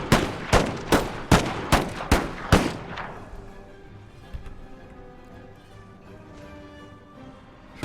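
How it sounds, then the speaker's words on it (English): Puckle guns fire in a video game battle: seven sharp, evenly spaced booming shots in quick succession, then a lower rumble of distant battle noise with faint scattered pops. "Puckle guns again. So they're going to be tearing into the Russian front."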